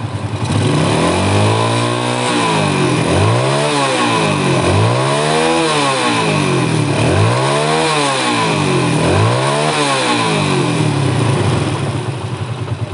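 A motorcycle engine is revved repeatedly during a charging-system voltage test, with about four loud, close rev cycles that climb and fall in pitch over a steady running engine, and no talk.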